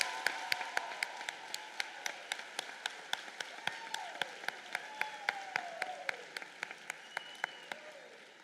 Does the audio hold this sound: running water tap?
no